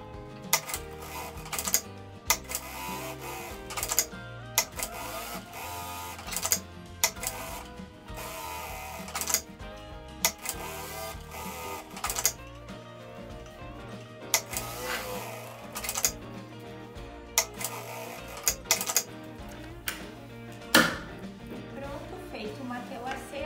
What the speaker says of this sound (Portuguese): E aí a gente vai costurar agora.